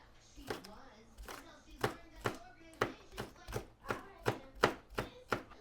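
Food for crab rangoon nachos is cut by knife on a board, about a dozen sharp, evenly spaced chops that speed up slightly, close and fairly quiet.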